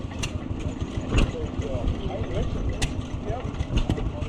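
A little homemade garden tractor at an antique machinery show idles with a low, steady chugging beat nearby, while people talk over it and outdoor crowd noise fills the background.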